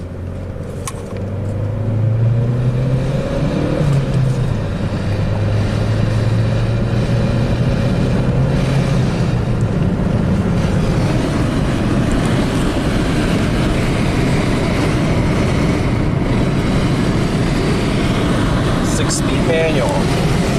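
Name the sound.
Chevy Cruze manual car driving on road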